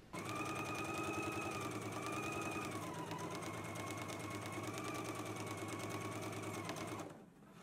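A sewing machine runs steadily, stitching a 5/8-inch seam in a garment project, a continuous whirring hum that holds for about seven seconds before stopping abruptly.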